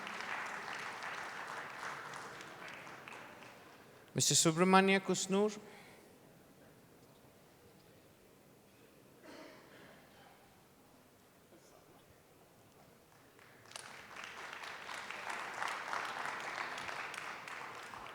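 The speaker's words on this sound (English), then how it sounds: "Please give him a round of applause, ladies and gentlemen." A panel audience at a CSR leadership summit in Bengaluru claps, with broad crowd applause at the opening and again at the close, a short loud burst in between, and a voice announcing a name.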